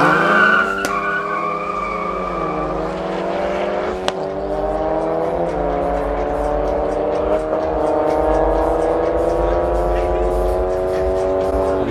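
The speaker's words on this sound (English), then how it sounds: "next up is a Mark 5 GTI going up against a Mark 7 GTI." Two Volkswagen Golf GTIs, a Mark 5 and a Mark 7, rev hard and accelerate in an illegal street drag race in Johannesburg, with engine notes climbing through gear changes, loud and near, while a voice talks over them.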